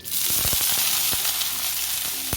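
Water sprinkled onto a hot, ghee-greased nonstick tawa bursts into a loud, steady sizzle, with several sharp crackles and pops in the first second before settling into a continuous hiss.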